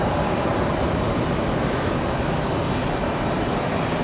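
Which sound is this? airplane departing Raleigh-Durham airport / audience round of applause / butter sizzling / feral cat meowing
airplane departing Raleigh-Durham airport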